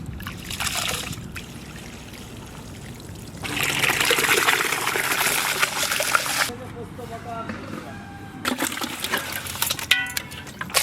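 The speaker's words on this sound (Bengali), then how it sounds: "চালটা ভালো করে ধুয়ে নেব।" Rice washed in water in a village kitchen: trickling, sloshing and pouring bursts with splashes and small clinks, close by, while a person talks between the water sounds.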